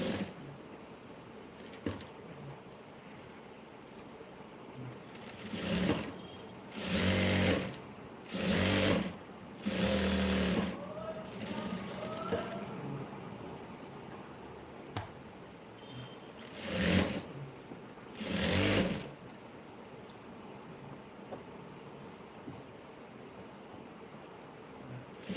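Domestic sewing machine running in repeated bursts while stitching the neckline of a blouse, several short runs of whirring motor and needle chatter separated by quiet pauses, close and moderately loud with no voices.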